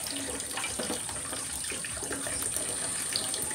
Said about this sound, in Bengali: কষানো হয়ে গেলে আমি পানি দিয়ে দিব।